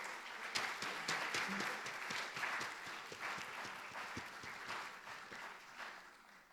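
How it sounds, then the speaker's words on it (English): An audience claps steadily through a lecture-hall round of applause honoring a family, a dense patter of many hands at moderate distance that holds even throughout with no voices over it. "So let's all give the Meade family a very big round of applause"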